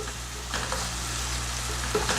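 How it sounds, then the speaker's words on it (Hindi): Biryani masala fries in a pan with a steady, close sizzle, broken by a few soft scrapes of stirring. "इसे हम अच्छे से फ्राई करेंगे ताकि सारे मसाले इसमें अंदर चले जाएं"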